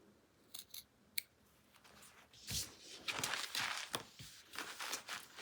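Scissors trimming fabric close to a seam line for a boxed bag corner make a few quiet, crisp snips, followed by softer rustling cuts and fabric handling nearby.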